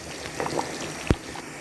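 Fish marinade water is poured into a simmering South Indian fish curry (meen kulambu), giving a steady bubbling, liquid hiss with one brief sharper splash near the end, heard alone at close range.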